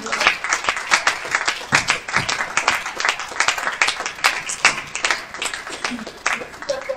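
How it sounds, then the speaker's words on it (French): Audience at a church youth pyjama party applauding after a message, a dense wash of many hands clapping steadily throughout, fairly loud and close, with some voices mixed in. "je peux faire tout ça, applaudir encore à la fin"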